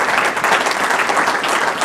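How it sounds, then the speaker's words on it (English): Sustained audience applause fills a city address event in Trenton, dense steady clapping from a large crowd with no voices over it. "So a round of applause for them too here."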